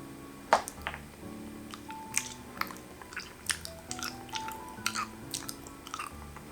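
Someone eating and chewing Red Cow cheese up close: soft, moist chewing with irregular small bites and squishes, fairly quiet, no talk.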